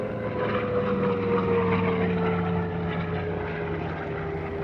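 A CAC Boomerang propeller fighter flies past at an airshow, its piston engine droning loud and steady with a slowly sliding pitch as it passes.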